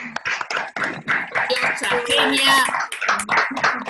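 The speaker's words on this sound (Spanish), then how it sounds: "Así que un aplauso." An audience at a political talk event bursts into clapping, with scattered individual claps, cheers and shouting voices over the applause.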